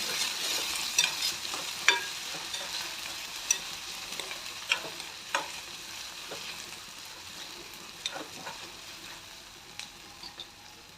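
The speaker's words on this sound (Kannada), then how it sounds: "ಚೆನ್ನಾಗಿ ಮಿಕ್ಸ್ ಮಾಡ್ಕೋಬೇಕು." Curry leaves, chopped tomato and peanuts sizzle in a pan while a spoon stirs them, soft scraping taps recurring every second or so over a steady, close frying hiss, with no talk.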